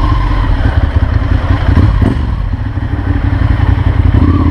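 A Ducati Monster 796 motorcycle idling at a standstill, its engine giving a loud, close, rough and uneven clattering rumble with thumping pulses throughout, sounding as if something is broken.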